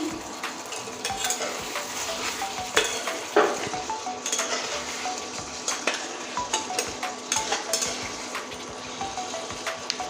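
Two green chillies go into an eel and potato curry frying in oil, with continuous sizzling, stirring scrapes and occasional clinks of a utensil against the pan, close and moderately quiet.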